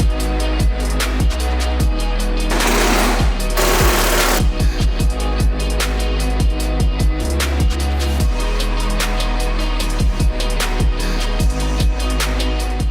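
A power tool runs bolts into the hood of a wrecked 2016 Dodge Challenger R/T, loud and close, with repeated sharp impact bursts over a steady hum through the whole stretch.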